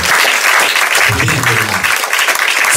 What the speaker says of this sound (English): You ought to applaud yourself.